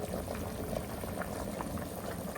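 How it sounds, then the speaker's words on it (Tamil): Chicken biryani water boils vigorously in a pot, a faint, steady bubbling and churning simmer with no voices. "என்ன பிரியாணி பயங்கரமா கொதிக்குது"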